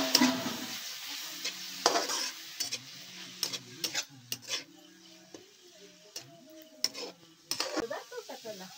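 Onion and green chilies fry in a pan, sizzling softly while a spoon scrapes and clanks against the metal in irregular stirring strokes, with occasional faint voices in the background.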